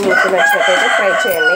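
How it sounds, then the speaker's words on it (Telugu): Many chickens kept right beside a kitchen crow and cluck loudly nearby, with a drawn-out rooster call ringing under a person talking. "ఆ కోళ్ళు అయితే ఇంక పొద్దున్న సాయంత్రం వరకు అరుపుతూనే ఉంటాయి."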